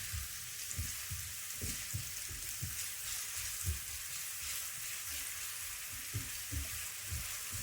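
Chopped red onion frying in a little hot olive oil in a pan, a steady bright sizzle with soft scraping stirs recurring underneath, close and without talk.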